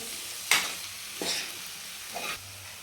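Potato and pea bhaji with kasuri methi being stirred in a pan: three distinct scraping stirs spaced about a second apart, quiet and close, with no talking.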